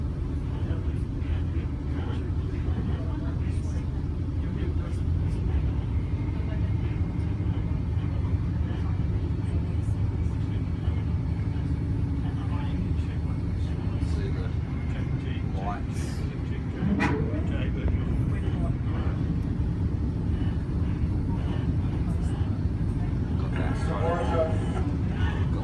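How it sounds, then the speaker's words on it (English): Inside a moving NSW TrainLink Endeavour railcar set, LE 2851 coupled with TE 2801, running between Hamilton and Waratah: a continuous, loud low rumble of the diesel railcar with faint clatter and what sounds like voices in the cabin. "being on an Endeavour railcar set"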